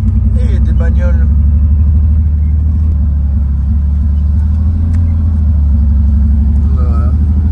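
Cars at the Padborg Park race circuit give a steady, loud low engine rumble throughout, with people talking over it at intervals.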